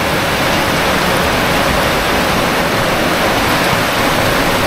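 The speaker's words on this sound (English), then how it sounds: "The water is streaming off that way." Floodwater rushes off a dirt mound during a seasonal flash flood, a loud, steady, broadband roar of streaming water that holds constant throughout with no voices over it.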